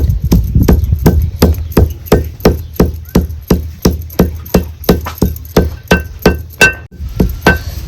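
Garlic, coconut and coriander pounded for a masala paste, a steady run of about twenty sharp, loud thuds at an even rhythm, close by, with no talk over it.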